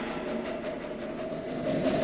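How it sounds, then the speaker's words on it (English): A train rumbles along the rails with a steady, dense roar and faint rhythmic clatter, running continuously and quite close, with no voices. "Stop that train!"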